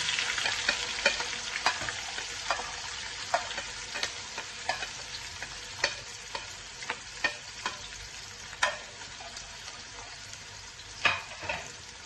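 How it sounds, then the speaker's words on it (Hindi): Chopped onions frying in hot oil in a kadhai for masala ojri, a steady sizzle with scattered sharp crackles and pops throughout, fairly close and moderately loud, no voices. "अब मैंने कढ़ाई में ऑयल डाला है, तो अब उसके बाद अब मैं ये प्याज डालने लगा।"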